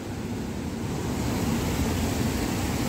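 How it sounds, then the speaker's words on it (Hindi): Strong flow of water at Panchet Dam near Dhanbad, a steady, loud rushing roar that holds without a break, with a low rumbling wash underneath. "उधर से साइड से पानी का बहाव थोड़ा तेज है उधर से आ रहा।"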